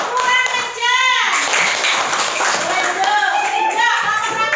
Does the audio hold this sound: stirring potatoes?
no